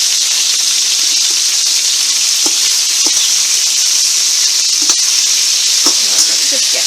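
Halved lamb kidneys frying in a pan, a loud steady sizzle with occasional spatters and soft clinks as they are stirred and turned.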